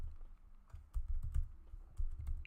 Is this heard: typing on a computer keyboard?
yes